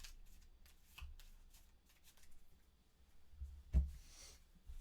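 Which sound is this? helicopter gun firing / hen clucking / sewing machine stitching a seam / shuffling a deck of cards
shuffling a deck of cards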